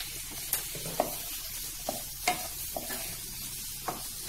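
Paneer bhurji with crushed kasuri methi is stirred in a pan. Soft frying sizzle runs throughout, with light, regular scrapes and taps of a spoon against the pan, and no one talks.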